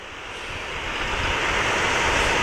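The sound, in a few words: wave splashing over a boat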